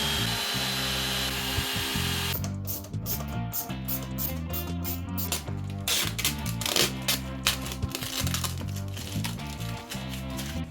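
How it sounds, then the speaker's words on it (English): A power drill bores holes in a pearloid Telecaster pickguard, whirring in short bursts that start and stop repeatedly over steady background music. "so I lined it up with the control plate and drilled some new holes"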